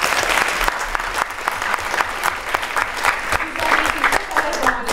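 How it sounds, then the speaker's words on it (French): An audience in a university lecture hall claps continuously for an eloquence contest speaker, dense, sustained applause filling the room with no clear pauses. "je vous propose de l'applaudir"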